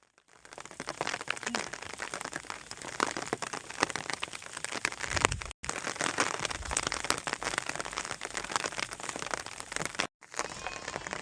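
Steady, heavy rain patters close by on surfaces in a hilly rural pasture with sheep and goats, a dense continuous hiss broken by two brief dropouts.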